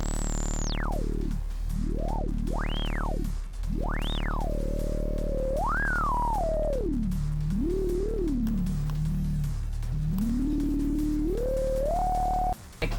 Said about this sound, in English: Then you can do really fun shit like adding resonance.